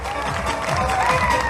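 Dense applause from a large audience at a gathering welcoming a speaker, a continuous, loud wash of many hands clapping together with crowd noise beneath, sustained without a break.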